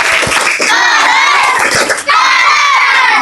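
A class of children at an Indonesian primary school shout and chant together in a loud, dense burst, with rhythmic claps marking the beat through the chant.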